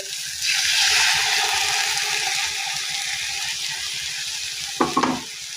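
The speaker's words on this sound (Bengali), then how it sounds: "এবার এই ডিমটা দিয়ে আমি আরও কিছুক্ষণ ভেজে নিব" Egg frying with cooked meat in a pan for momo filling, a strong continuous sizzle that swells early then settles, with a short clatter of stirring near the end and no talking.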